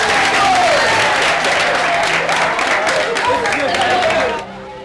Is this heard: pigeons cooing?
no